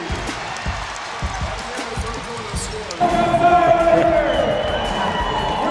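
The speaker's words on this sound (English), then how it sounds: "you can hear the crowd reacting" Basketball crowd at an NBA Summer League game between the Milwaukee Bucks and Houston Rockets, with sneaker squeaks and bounces, then a loud surge of cheering and whooping that swells and holds after a basket, under commentator speech.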